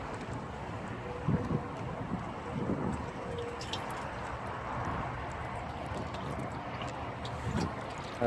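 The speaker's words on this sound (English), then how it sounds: "There goes the wind." Wind blows outdoors as a faint, steady broadband rush with slight gusting swells and occasional soft bumps, no speech over it.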